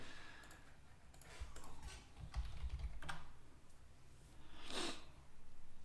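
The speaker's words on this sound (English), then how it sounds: "You'll hear a lot of clicking whilst I sort things out." Computer keyboard and mouse clicking while managing a football game, soft scattered taps and clicks in short bursts, close and fairly quiet, with no talking over them.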